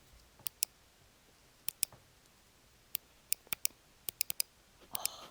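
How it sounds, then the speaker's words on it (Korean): Apple Magic Mouse buttons clicked in sharp, sparse single and double clicks, close and crisp against a quiet room, with no talking. "매직 마우스는 딸깍 소리조차 감성이다"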